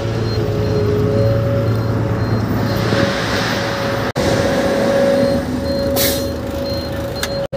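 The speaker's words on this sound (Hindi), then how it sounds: "तो जी गाड़ी हमारी अनलोड होने के लिए जा रही है" A truck pulls away to be unloaded in Sirhind, Punjab, with a steady engine drone, a sustained tonal whine and a loud hiss late on, like air brakes.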